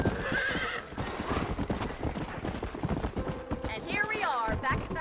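Horse hooves clip-clop at a gallop in the Red Dead Redemption video game, with a loud whinny near the end and a rider's voice calling out over the rhythmic hoofbeats.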